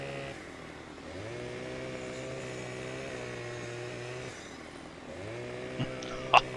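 A chainsaw in Farming Simulator 15 cuts logs, its engine droning steadily at high revs and dipping twice as the blade bites, loud and close with a couple of sharp knocks near the end and no talk.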